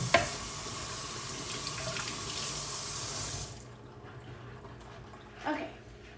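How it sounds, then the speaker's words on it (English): Tap water runs steadily into a kitchen sink for a few seconds as something is rinsed, then shuts off, leaving quiet room tone with a small knock. "I'm gonna rinse it off"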